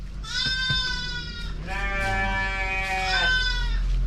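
Goats bleat nearby, two long wavering cries one after the other, loud and close over a low background hum.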